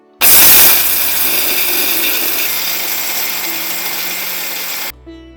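An electric mixer grinder pulverises dal and dried chillies into powder, starting abruptly with a loud whirring roar that holds steady for nearly five seconds before cutting off sharply.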